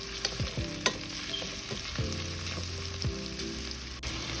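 Frying and stirring for a mutton curry, a steady sizzle in the pan broken by a few sharp scrapes and knocks of the spoon against the pan, close and fairly loud throughout.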